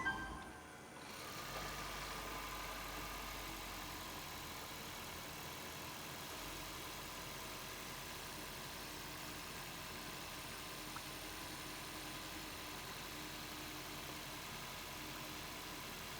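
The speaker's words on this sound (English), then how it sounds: "I'm going to turn on the car real quick." A car engine idles quietly after starting, with a brief start burst followed by a faint, steady hum that stays even and unchanging for the rest of the time, alone with no talk.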